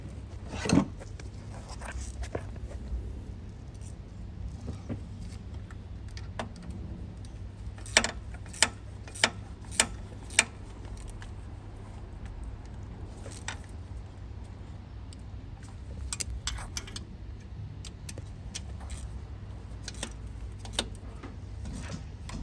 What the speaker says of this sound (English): I'm using quarter ratchet, don't going to use it half a ratchet for like this small job.